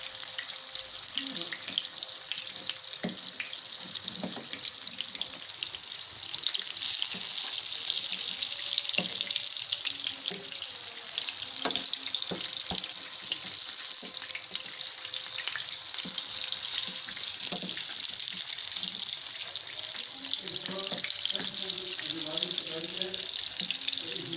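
Peshawari chapli kababs fry on a medium flame, producing a steady, bright sizzle that runs throughout, with occasional clicks and taps from turning them and a faint voice in the background.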